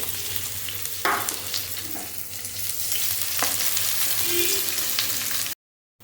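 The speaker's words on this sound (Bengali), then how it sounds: "পেঁয়াজটা ভাজা হচ্ছে।" Chopped onion fries in a pan with black cumin, a steady close sizzle with a few spoon scrapes and stirs, ending abruptly.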